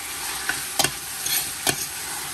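Chicken frying in a pan for tinola is stirred, giving a steady sizzle broken by a few sharp scraping strokes of the utensil, close and alone with no voices.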